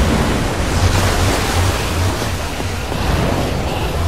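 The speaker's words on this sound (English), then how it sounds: "I don't know how much water this thing is going to kick out" Water gushing out of a device in Minecraft: Story Mode, a steady loud broadband rush like surf, continuous throughout with a low rumble underneath and no talk.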